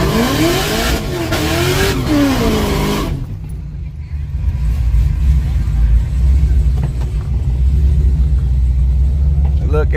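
A drag racing car at a drag strip idles with a deep, loud rumble after a short burst of revving, while people talk nearby over the engine.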